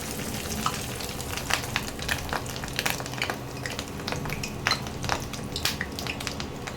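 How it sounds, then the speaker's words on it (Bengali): Fish roe fritters fry in oil over lowered heat, giving a steady close sizzle scattered with sharp crackles and pops, plus the odd faint clink of a utensil against the pan. "ওই জন্যে টেম্পারেচারটা কমিয়ে দিয়ে এবারে বড়াগুলোকে ছাড়বে।"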